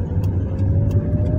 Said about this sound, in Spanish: venía en tercera, bajo a segunda